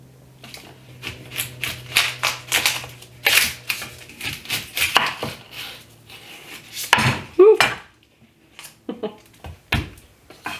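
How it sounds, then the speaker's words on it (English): Onions and garlic are cut on a board with a knife for pumpkin black bean chili, uneven bursts of chopping and knocks with clatters from handling, close and fairly loud, and a low hum in the background. "So I'm going to start cutting up my onions and my garlic."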